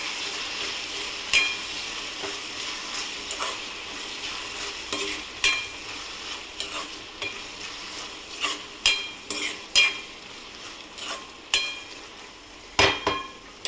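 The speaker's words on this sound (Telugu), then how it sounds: "కొంచెం బాగా కలుపుకోవాలి." Stirring soft tomato masala in a pan for village-style prawn curry: a run of scraping, clinking spoon strokes against metal with faint sizzling underneath, growing more rhythmic and pronounced toward the end, with no talking.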